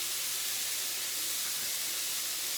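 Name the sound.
ground beef browning in a hot pan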